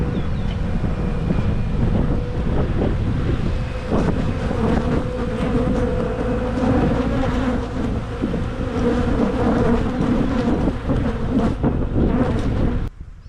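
Honey bees buzz steadily around hives set out for cherry and apple pollination on a farm, a dense continuous drone with occasional close passes and light wind on the microphone, no voices.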